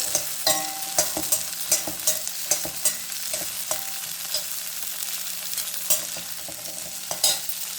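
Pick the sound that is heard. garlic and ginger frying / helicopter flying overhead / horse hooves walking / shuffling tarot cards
garlic and ginger frying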